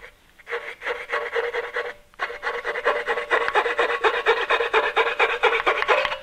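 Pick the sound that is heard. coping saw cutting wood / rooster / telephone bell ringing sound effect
coping saw cutting wood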